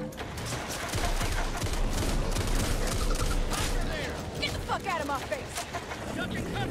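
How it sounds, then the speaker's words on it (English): Hawker enemy shots in the game Back 4 Blood, a dense, sustained barrage of gunfire and impacts, loud and continuous, with a voice talking over it. "when you're dodging hawker shots like this"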